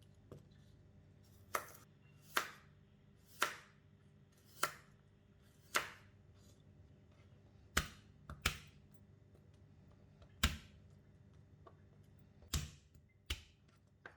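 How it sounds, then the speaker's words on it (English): Kailan being cut on a board, stems and leaves separated: about a dozen crisp, sharp knife chops at an uneven, unhurried pace, close and alone. "Cut the kailan, separating the stem and the leaves."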